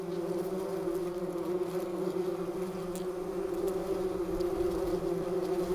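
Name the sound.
bumblebees buzzing at their nest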